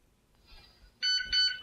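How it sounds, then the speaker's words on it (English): A Proscenic 850T robot vacuum gives a short electronic beep, two close bright tones heard after a quiet pause once its button has been held down. "You hear a beep and you start to see that flash."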